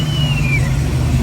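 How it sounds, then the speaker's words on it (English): Steady engine drone from a 1995 Mitsubishi GTO, heard with a faint whining blower tone that glides downward over about a second, close and continuous with no talk. "You hear the blower?"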